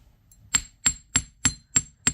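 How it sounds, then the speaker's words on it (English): Six crisp, evenly spaced strikes of a chasing hammer flattening earring wire, close and ringing against a quiet background. "So we'll take our chasing hammer and we're going to"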